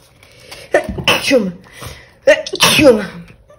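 A loud, close sneeze bursts out, followed moments later by another sharp, throaty sneeze.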